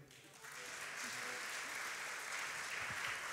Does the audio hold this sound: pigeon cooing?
no